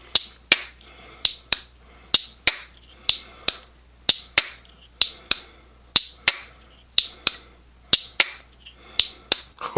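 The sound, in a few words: TPK Lake Champlain Barlow pocket knife blade action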